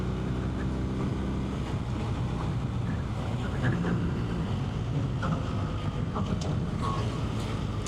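Steady, dense wind roar buffets the rider on a BMW R1300RT touring motorcycle cruising through the Bavarian Alps, a constant broadband rush with no breaks for the full length.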